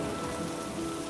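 Steady, dense rainfall pours down in a cartoon dream about rain, a loud continuous hiss of drops hitting surfaces with no voices over it.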